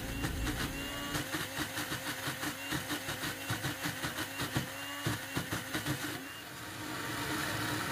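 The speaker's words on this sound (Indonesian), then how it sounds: "karena blender aku kecil jadi aku blendernya berulang-ulang" Small kitchen blender grinding mung beans, running in a pulsing, rhythmic churn for several seconds and then smoothing into a steady whir, close and moderately loud with no talking.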